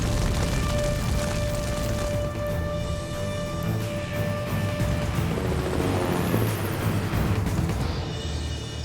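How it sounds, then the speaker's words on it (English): Helicopters at a wildfire firefighting base taking off and landing, a continuous loud rotor and engine roar with a steady turbine whine and a surging rumble, close by and with no talk. "There's helicopters constantly taking off and landing"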